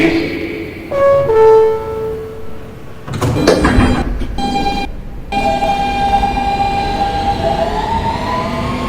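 An R160B Siemens subway car on the W line sounds its door chime tones, then the doors slide shut with a thud, followed by the rising electric whine of the train starting to move.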